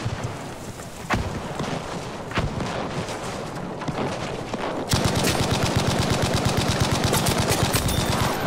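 Bren machine gun fire in the Battlefield 5 Firestorm video game: a sustained, rapid, evenly spaced burst of loud shots in the second half, with wind and battle noise before it and no talk.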